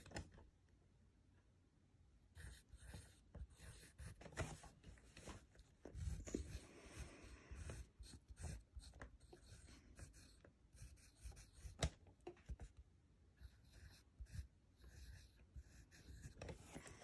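Pencil scratching on paper as a word is written, a run of soft, uneven strokes and taps with short pauses, close and fairly quiet, no talking.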